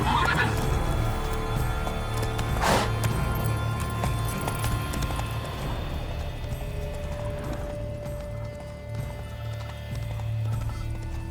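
A horse whinnies loudly near the start in The Witcher 3: Blood and Wine, then hooves clip-clop steadily over a low, constant rumble with a faint tonal hum in the background.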